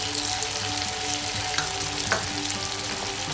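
Tomato-based momo chutney with sugar and lemon juice simmers and bubbles in a pan on a low to medium flame, a continuous sizzle under occasional stirring scrapes, with no talking.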